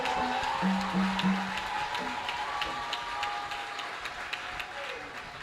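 A church congregation at a Friday worship service claps and acclaims, a sustained wash of applause and crowd voices with tonal singing or shouts threaded through.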